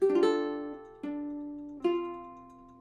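Three plucked ukulele notes played fingerstyle ring out cleanly and close, each decaying slowly before the next, with no talking.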